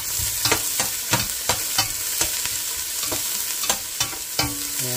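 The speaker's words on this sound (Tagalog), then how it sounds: "lutuin lang bahagya yung sibuyas" Onions, both red and white, sizzle and fry in a pot while being stirred, with a steady close frying hiss broken by repeated scraping stir strokes at a regular pace.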